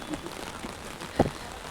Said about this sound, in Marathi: फुल पाऊस पण आहे